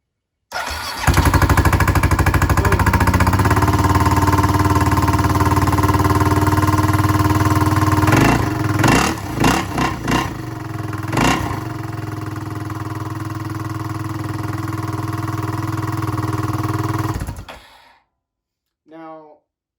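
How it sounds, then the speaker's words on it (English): A motorcycle fitted with a Lectron carburetor fires up on the first push of the start button and settles into a loud, steady idle with a few revs, then cuts off, all close by. "first button push, first little start button push, this bike kicked over the Lectron"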